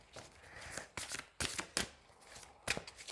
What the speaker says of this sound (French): J'ai déjà bien mélangé parce qu'il y a pas mal de cartes.